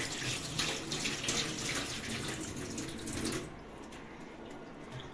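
Water gushes from a tap inside a home, a loud steady splashing stream that cuts off abruptly after about three and a half seconds, leaving quiet room tone; no voices.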